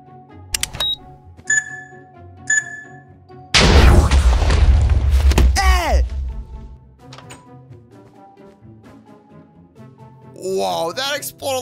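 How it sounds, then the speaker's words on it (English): A loud booming explosion in Minecraft with a rumbling low end erupts midway, decaying over a couple of seconds, surrounded by sparse game sound effects and chimes. "Whoa, that exploded a lot more than I usually make him."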